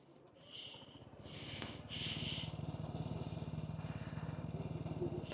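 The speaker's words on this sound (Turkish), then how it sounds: "Şimdi bunda hemen egzoz dinleteyim mi size?" A Kymco KRV200 motorcycle engine idles close by with a steady low, rhythmic exhaust thrum, joined by a few brief hissing bursts early on.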